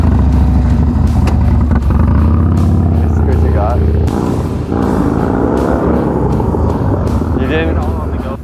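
A motorcycle engine revs and pulls away with a rising, buzzing drone, loud and close, while people talk over it.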